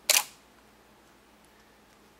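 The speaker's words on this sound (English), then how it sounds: "I'll take a normal shot at the first curtain. So you'll see the mirror going up and down." A single sharp Canon DSLR shutter and mirror clack fired with a Speedlite 580EX II flash, loud and close, then fading to near silence.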